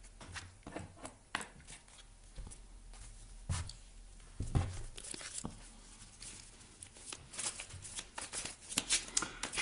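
Tarot cards being shuffled for a reading, heard as a string of crisp riffling bursts and soft paper slaps close by. The bursts come irregularly and there is no talking.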